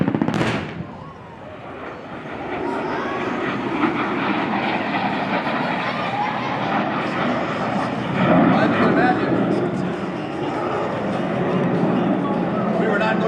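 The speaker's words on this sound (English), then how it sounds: "Mark bringing it on back for another strafing run on the minigun" An A-37 Dragonfly jet on a minigun strafing run at an airshow, a loud sustained roar with crackling pops, passing overhead at close range with an announcer talking throughout.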